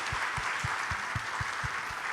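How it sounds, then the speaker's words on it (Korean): Congregation clapping at a Sunday church worship service to encourage the church school ministry, a soft, fairly distant and rhythmic clap pattern of about eight even beats. "교회학교 사역 격려하며 다 같이 박수하겠습니다"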